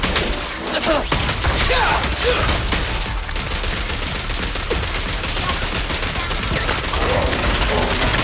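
Rapid, sustained gunfire from combat in the video game Zenless Zone Zero, with dense bursts that stay loud throughout, layered with impact effects and other game sounds.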